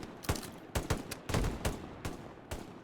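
Machine gun fire in a video game, several loud close bursts of rapid shots spaced unevenly across a few seconds, with no talking.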